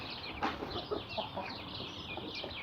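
Small backyard hens cluck faintly in soft, scattered calls against a steady outdoor background hiss, with no talk.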